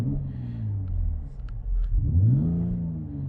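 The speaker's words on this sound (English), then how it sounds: "and then your exhaust note, you can switch through these settings too" A 2020 Mercedes GLC 43 AMG engine revs twice with a throaty exhaust note, each rise swelling and falling in the close, loud sound.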